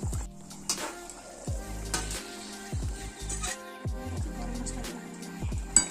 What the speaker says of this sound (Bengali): এবার আর কি এটা 2 মিনিট ফুটবে। এবার এই ভেজে রাখা ডিমটা আমরা দিয়ে দিচ্ছি।